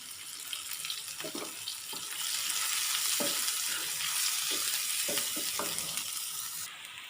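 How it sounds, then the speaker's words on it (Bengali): Onions sizzle steadily in a pan as the base for a rita fish curry, a constant close frying hiss broken by a few sharp stirring scrapes, with no voices. "পেঁয়াজটা হলো ভাজা হয়ে গেছে, আর ভাজবো না"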